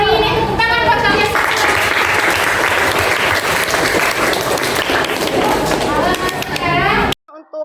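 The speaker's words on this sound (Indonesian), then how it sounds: "Tepuk tangan buat kalian." Students in a classroom clap loudly and rapidly together for several seconds, with children's voices talking over the start and end before the sound cuts off abruptly.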